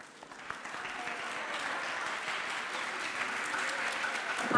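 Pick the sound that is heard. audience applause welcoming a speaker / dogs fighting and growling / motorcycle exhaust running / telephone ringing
audience applause welcoming a speaker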